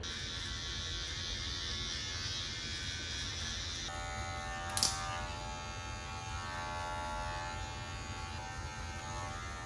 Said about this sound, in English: I'm gonna probably just trim up the hair on the side a little bit, blend that out, blend that in.